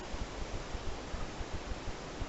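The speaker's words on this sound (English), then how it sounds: "sorry about that sound. It's a little windy today." Steady wind buffeting the microphone, a continuous broadband rush with low, gusty thumps pulsing throughout.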